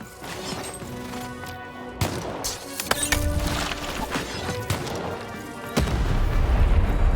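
Several booming cannon blasts and crashing impacts punctuate a busy soundscape in the video game Lost in Random, with one heavier rumbling explosion near the end.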